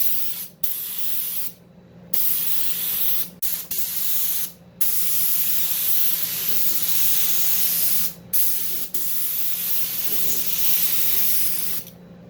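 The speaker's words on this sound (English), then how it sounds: "So we have the fan all the way up. We're going to see what kind of pattern we have." Conventional spray gun atomizing latex paint with the fan fully open, giving a loud steady hiss of spray in long bursts broken by several short pauses, with no talking.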